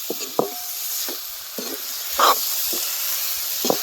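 Masala sizzling in hot oil in a pan, a soft steady frying hiss broken by several short scraping stirs, one sharper clink partway through, close and fairly quiet with no talk.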